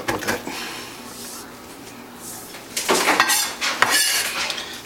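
Kitchen clatter while an onion is chopped with a knife for risotto: a few sharp clinks and knocks early, then denser bursts of clattering, scraping and rattling near the end, close and fairly loud.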